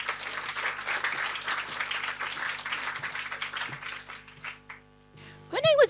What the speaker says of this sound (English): shall we have another gentle, warm round of applause for our next presenter, Pantea Lotfian.